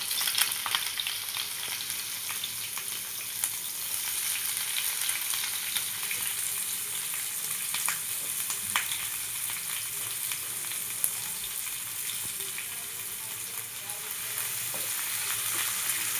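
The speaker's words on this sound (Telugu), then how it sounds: "ఇందులో ఉల్లిపాయలు, పచ్చిమిర్చి వేసుకొని బాగా వేయించుకోవాలి." Onions, green chilies and crushed garlic fry in a pan, a steady close sizzle with faint crackles that runs unbroken and alone throughout.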